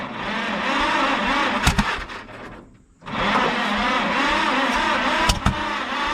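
A Mack B30 bus engine runs steadily after starting, a loud continuous mechanical roar with a short dip near the middle before it picks back up, plus a few sharp knocks.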